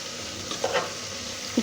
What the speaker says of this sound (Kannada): ಕಟ್ ಮಾಡಿ ಇಟ್ಕೊಂಡಿರುವಂಥ ಕ್ಯಾಪ್ಸಿಕಮ್ನ ಹಾಕ್ಕೊಳ್ಳೋಣ. ಈಗ ನೀಟಾಗಿ ಫ್ರೈ ಮಾಡ್ಕೊಳ್ಳೋಣ.